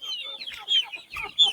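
Chickens on a small farm cluck and chatter close by in quick, overlapping bursts, a brief busy flurry of bright calls with no talking.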